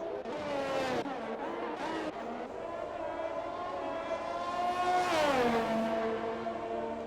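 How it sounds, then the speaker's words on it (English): Race car in a Formula 1 racing video game drifting through Monaco's Mirabeau corner, a loud engine whine that rises and falls with tyre squeal and a sharp pitch sweep near the end, continuous throughout. "Reese does some Tokyo drifting in Mirabeau"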